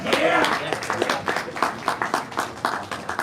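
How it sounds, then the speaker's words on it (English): An audience at a crypto conference stage in Miami claps in a loose, uneven patter of sharp hits while a voice talks over the start. "Round of applause."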